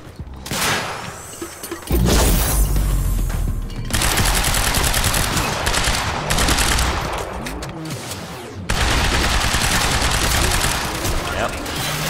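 Rapid gunfire in the video game Quantum Break, loud and sustained bursts of automatic shooting that stop and start over a few seconds.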